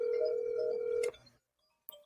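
Telephone tones during a call: a steady, fairly loud tone holds for about a second and then cuts off abruptly, followed by near silence and one short blip.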